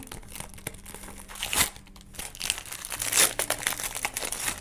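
Paper blind bag torn open and crinkled by hand, a steady run of close crumpling and tearing bursts with brief louder rips, no voices.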